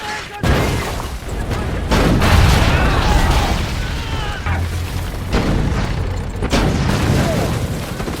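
Deep booming blasts in a World War II film rumble one after another, heavy and loud, with crackling debris and a dramatic music bed layered over the explosions.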